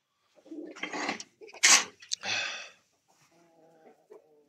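A chicken clucks close by in a few short, scratchy bursts, then gives softer, lower murmuring calls that fade out at the end.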